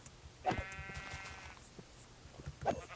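A sheep in Minecraft bleats twice, a wavering call followed a couple of seconds later by a shorter one, heard over faint game background noise.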